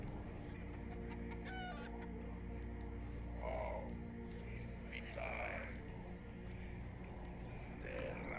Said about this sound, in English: Okay, is there a reason we're summoning chickens?